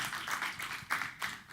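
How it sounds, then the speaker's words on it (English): Audience applause at a summit panel session, a faint, sparse patter of hand claps with a few louder bursts, heard from a distance in a hall. "yes, a round of applause."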